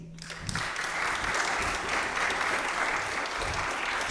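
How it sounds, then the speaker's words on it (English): A crowd applauds musician Stu Perlman at a jazz vespers service, steady broad clapping from many hands that swells after a brief spoken introduction and holds evenly throughout. "let's give a big round of applause to Mr."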